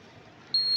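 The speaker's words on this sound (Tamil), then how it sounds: "இந்த பீப் சவுண்டு இப்படி கேட்கும்" A single sharp electronic beep, thin and steady, sounding briefly over faint background hiss.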